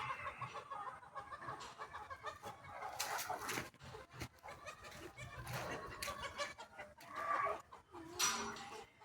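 Roosters on a farm crow and cluck in repeated bursts, fairly close and clear against a quiet background, with no talk.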